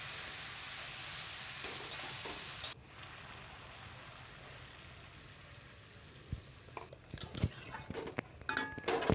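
Malabar spinach with ground spice paste in a pan, with Hilsa fish head and prawns, sizzling steadily as it is stirred, then sharper clatter and scraping of stirring toward the end; no talk.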